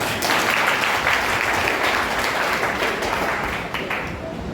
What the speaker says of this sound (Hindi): एक जोरदार ताली अपने स्वयं के लिए बजाइए।